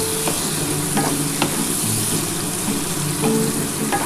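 Onions frying in a pan for a spicy red loitta fish (Bombay duck) dish, a little sugar added to them. Steady close sizzle runs throughout, with a few scraping stirs of a spoon, and no voices.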